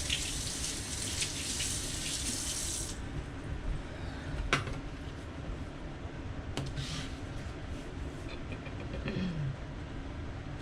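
A knife is rinsed under a running tap during fish preparation, a steady close wash of flowing water with a brighter hiss for the first few seconds, then a duller continuous rush with a couple of light clinks.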